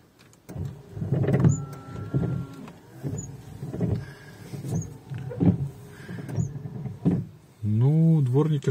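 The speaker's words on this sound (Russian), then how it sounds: "Дворники стали работать лучше" Car windshield wipers sweep across glass treated with a rain-repellent coating, making repeated close rubbing swishes and motor whirs in a steady back-and-forth rhythm.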